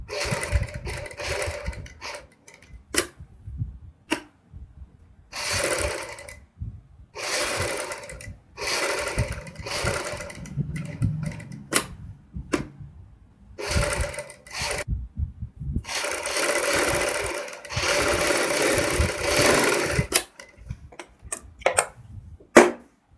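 A sewing machine stitches along the boat neckline of a kurti in repeated bursts, running for a few seconds and then stopping before starting again, loud and close with short pauses between runs.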